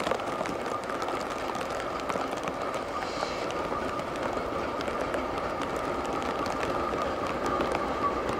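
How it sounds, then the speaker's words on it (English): A CSX freight train rolls past through a heavy Buffalo blizzard, giving a steady, moderately distant rumble and rail clatter that holds for several seconds with no voices. "And here comes a train."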